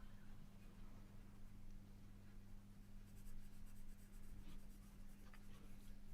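A single pencil shades and scratches across paper in close, continuous strokes, soft but steady, with a few sharper flicks toward the end, over a low background hum and no talking.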